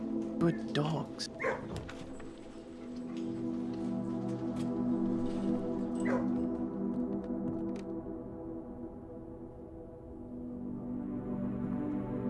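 Several dogs barking and yipping early on over a steady indoor hum, with people talking and praising them; the barks fade after the first few seconds.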